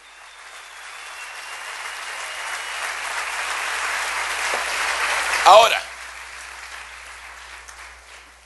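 Church congregation applauding, a rising wash of clapping that builds and then cuts off abruptly, followed by a voice speaking over the quiet room.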